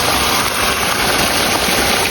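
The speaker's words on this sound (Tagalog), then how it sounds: "Malakas yung current ng water kasi sobrang ulan." A strong current of water rushes through a canal in Japan after heavy rain, producing a loud, steady roar that fills the scene without pause.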